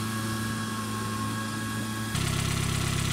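Engine on a remote-controlled 8x8 Mudd-Ox amphibious vehicle, idling with a steady mechanical drone and whine, then stepping up abruptly to a louder, harsher revving tone as it pulls away and drives, heard close with no talk.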